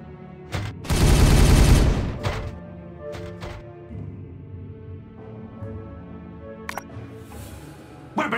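Video game gunfire in Warhammer 40K Regicide: a loud, dense burst of rapid shots lasting about a second, followed by scattered single cracks and thuds over a low battle rumble.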